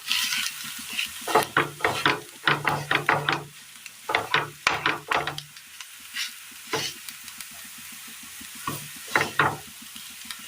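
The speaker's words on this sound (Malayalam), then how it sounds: "ഇനി ഇതിലേക്ക് നമ്മൾ അരച്ചു കൊണ്ടുവന്ന ചക്കക്കുരു ചേർത്ത് കൊടുക്കാം" Ground jackfruit seed paste being stirred into softened sautéed onions in a Kerala kitchen pan: clustered bursts of scraping, knocking strokes with pauses between, over a low sizzle, close and fairly loud.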